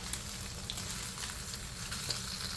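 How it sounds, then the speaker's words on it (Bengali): Small fish fry in a pan in a home kitchen, a steady, fairly faint crackling sizzle that carries on evenly throughout, with no talking. "এভাবে আমি ওই পিঠটাও ভেজে নিব।"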